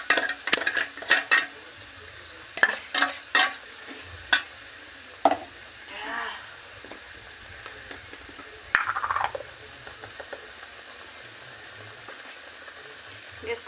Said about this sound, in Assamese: এইখিনি এতিয়া মই কেঁচা গোন্ধ নোযোৱালৈকে ভাজি থাকিম